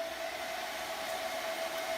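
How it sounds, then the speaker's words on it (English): A blow dryer drying a gold leaf star on a simple pine frame craft project, a steady close whooshing hum with a constant whine, running alone without pause. "I'm going to move this along just a little bit with my blow dryer"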